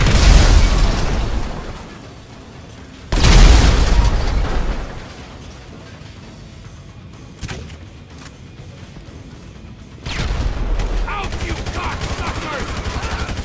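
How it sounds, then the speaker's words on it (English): Grenade launcher explosions in the video game GTA V: three heavy, booming blasts land several seconds apart, each loud and rolling before fading into quieter background gunfire and game noise. "grenade launcher!"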